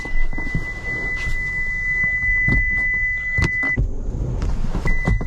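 A 2023 Toyota Sequoia TRD Pro gives a sustained electronic warning tone inside the cabin, which cuts off briefly and resumes, amid interior rustling and thumps.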